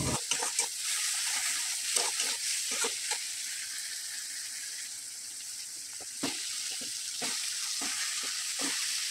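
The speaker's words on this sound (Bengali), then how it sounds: "দিয়ে ভালো করে মশলাগুলোকে ভেজে নেব।" Ginger-garlic paste, spices and slit green chillies sizzle and fry steadily in a pan of pumpkin curry base, with scattered stirring clatters breaking through the constant hiss.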